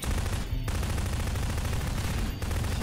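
Rapid, sustained gunfire in a Garry's Mod horror map, a dense continuous rattle of shots filling the whole stretch with only two brief dips, loud and close with no talk over it.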